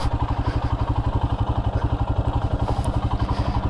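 Royal Enfield Himalayan motorcycle engine idles with a steady, rapid thumping pulse, close and fairly loud, its even rhythm holding throughout without any revving.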